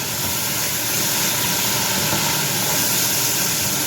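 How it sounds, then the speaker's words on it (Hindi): Nihari masala sizzling and frying in a pan, heard as a steady, dense close-range hiss with no pauses and no talking. "इसको हम भूनेंगे 5 मिनट और, जब तक मसाला भून नहीं जाता।"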